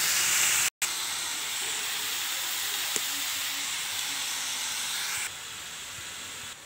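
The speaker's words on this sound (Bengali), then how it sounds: "একটুখানি জল দিয়ে দিচ্ছি" Water poured into a hot pan of spiced pumpkin curry with turmeric and salt hisses and sizzles loudly and steadily for several seconds, a close, continuous steam hiss with one brief break.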